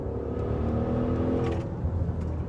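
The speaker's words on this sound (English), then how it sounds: "you can go into Corsa and the exhaust kind of comes alive" The exhaust of a 2020 Maserati Levante Trofeo sports SUV in Corsa mode: a sporty engine rumbles and revs with a throaty exhaust note, steady and close, with a slight swell partway through.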